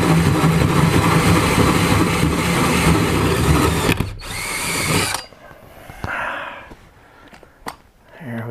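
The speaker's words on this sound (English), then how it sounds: "I'm going to drill a hole and pop this in right here" A power drill whirs loudly and steadily for several seconds drilling a vent hole in a solar battery box, then stops, followed by a few quieter handling clicks and knocks.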